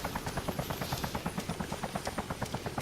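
Helicopter in the Arma 2 DayZ Mod video game, a steady rapid rotor chop with a turbine whine, loud and continuous with no talk.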